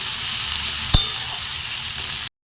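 Garlic and spices fry in a pan with a loud, steady sizzle. A single sharp clink is heard about a second in, and the sound cuts off abruptly near the end.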